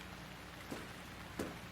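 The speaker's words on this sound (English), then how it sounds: "It's raining." Steady rain falls in a Teardown video game scene, a soft continuous hiss with two brief louder splashes or thumps near the middle and end.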